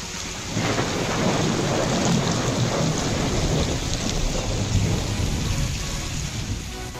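Steady rain pours across the Bangladesh Marine Academy grounds, a continuous close hiss of drops on surfaces layered over a low rumbling of thunder, with no voices.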